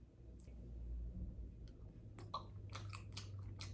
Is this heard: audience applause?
no